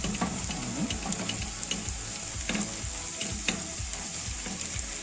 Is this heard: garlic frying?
yes